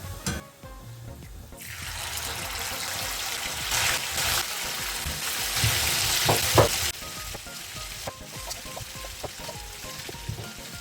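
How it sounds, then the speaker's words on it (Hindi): Marinated chicken hits hot oil in a kadai, breaking into a loud, rushing sizzle that swells and crackles with stirring, then settles to a softer steady frying. "जब ऑयल गर्म हो जाए तो मैरिनेटेड चिकन डाल दें।"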